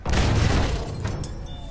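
A strafing plane being shot down and exploding in the Battlefield 1 video game, a single heavy boom with a deep low rumble that fades out over about a second.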